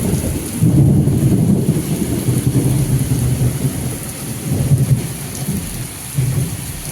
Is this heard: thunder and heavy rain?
yes